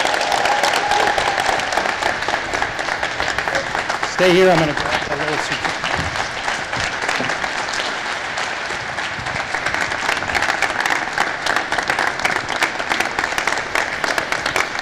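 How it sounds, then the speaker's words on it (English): An audience applauds a graduating athlete at a university athletics ceremony, sustained dense clapping that carries on throughout, with a brief spoken remark near the start of the clapping. "Join me in a round of applause."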